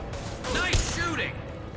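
In the video game Mass Effect 2, gunfire and sharp mechanical impacts crackle in a short dense burst, with a voice speaking over it.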